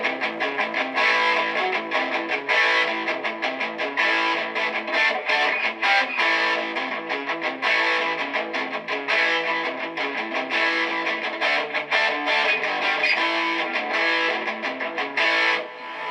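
A Marshall MG100 HDFX guitar amp through a 4x12 cabinet, on its crunchy, mildly distorted channel, plays a steady chord riff, loud and alone, with rhythmic strummed attacks throughout.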